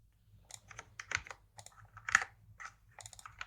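Quick bursts of keystrokes on a computer keyboard while writing C# code, close and clicky, in irregular clusters with short pauses between them.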